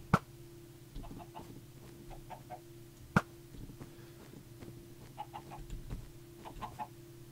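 A Minecraft chicken gives scattered short clucks in small clusters over a steady low game hum, with a few sharper clicks in between.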